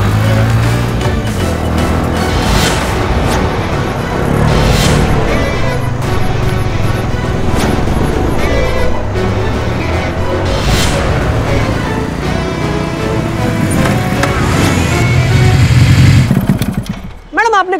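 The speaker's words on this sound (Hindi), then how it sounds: "बाइक की आवाज आ रही है, और देखो बाइक आ गई" A motorcycle engine roars loud and close as the bike pulls up, running steadily throughout with people talking over it.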